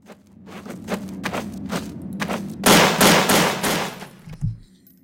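Gunfire in the video game Counter-Strike: Source, a run of sharp separate shots followed by a denser rapid burst, moderately loud with a final thump.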